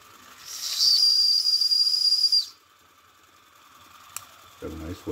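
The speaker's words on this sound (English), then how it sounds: "Got a nice whistle." A Robert Fulton Line vertical oscillating steam engine on its first steaming: a sharp, high whistle blows for about two seconds over a soft hiss, followed by quiet mechanical clicks and a low chugging at the end.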